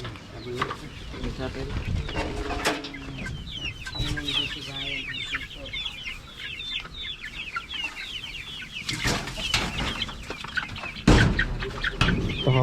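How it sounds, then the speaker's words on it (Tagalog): Rhode Island Red chickens cluck and chatter steadily at close range during feeding, with occasional wing flaps and sharp knocks, while a person talks in the background. "Lalagyan na ng pagkain yung mga manok"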